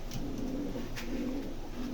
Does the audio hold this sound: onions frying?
no